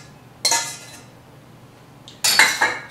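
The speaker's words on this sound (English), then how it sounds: "Stir your mixture around." Melted butter being stirred into a cheesecake crust mixture in a bowl: two bright bursts of utensil scraping and clinking against the bowl, separated by a quiet pause, close and with no talk.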